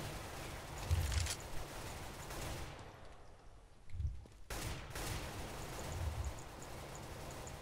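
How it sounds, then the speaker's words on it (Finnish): Gunfire in Counter-Strike: Global Offensive, several muffled low bursts of shots spaced a few seconds apart over steady game background noise, with a short quiet gap in the middle. "Seuraavan ammuin."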